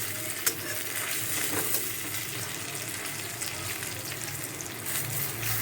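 Pumpkin leaf fritters frying in oil over low to medium heat, giving a steady, close, even sizzle throughout with a few faint clicks and no talking.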